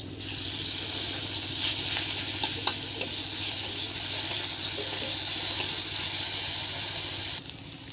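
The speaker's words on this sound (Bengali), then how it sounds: "এবার দিয়ে দেবো রসুন বাটা" Garlic paste hitting hot oil in a pan while cooking a fish roe and vegetable stem dish, a loud continuous sizzle and hiss with a few stirring clicks, close up, cutting off near the end.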